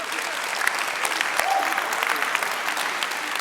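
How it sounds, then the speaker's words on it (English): A church congregation applauds together, a full, continuous patter of many hands clapping at moderate loudness, with faint voices blended into the crowd noise. "will you give Jesus a round of applause today?"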